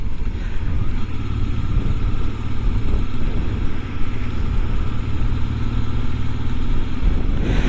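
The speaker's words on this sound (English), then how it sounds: "to see how the Transalp run, and yeah, it runs great" A rebuilt Honda Transalp motorcycle engine runs steadily and loud up close, a constant mid-pitched rumble with no voices over it.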